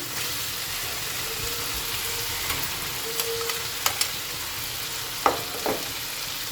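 Fried potatoes being stirred in spiced masala in a wok for aloo posto, a steady loud sizzle with a few sharp scrapes and clinks of the spoon near the end, no talking.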